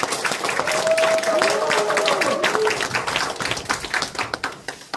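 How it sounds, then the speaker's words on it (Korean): An audience claps warmly to welcome a member of the National Assembly to the stage at a committee launch ceremony in a rural community center in Boeun. Steady, dense applause holds for several seconds, then thins into scattered claps, with a few voices calling over it. "그럼 여러분들 큰 박수로 모시겠습니다."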